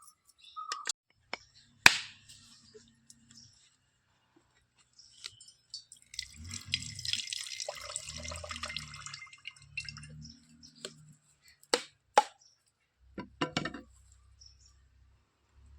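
Salted fish for a Malvani fish curry being rinsed in water, with scattered drips and small splashes followed by a stretch of sloshing and rubbing in water, then a few more drips, close and fairly quiet with no talk.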